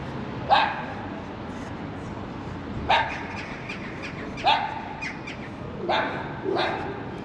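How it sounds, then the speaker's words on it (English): Dogs bark on a walk through the Rows in Chester, giving about five separate, moderately distant barks spaced a second or two apart over a quiet street background. "There's a lot of dogs up that way."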